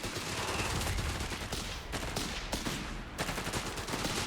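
Machine gun fire in the Company of Heroes 3 real-time strategy game, a dense fusillade of rapid gunshots rattling continuously across a busy battlefield mix, loud and steady with brief dips.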